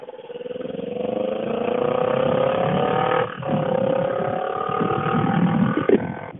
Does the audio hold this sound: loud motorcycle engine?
yes